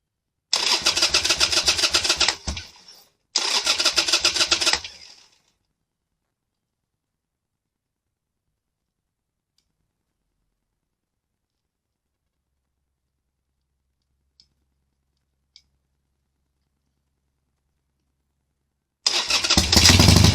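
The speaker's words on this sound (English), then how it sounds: "We're going to try to start the bike." A 2006 Harley-Davidson Sportster with a crank sensor problem cranks loudly in two short bursts, falls silent for a long pause, then cranks again at the end, close and alone.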